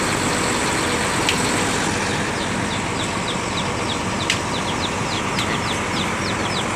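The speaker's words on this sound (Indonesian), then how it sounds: "Enak ya, garing mesinnya, halus." An ALS bus engine on the Surabaya–Medan route runs in a loud, steady drone heard from inside the vehicle, with faint repeated chirps above the rumble and no one talking.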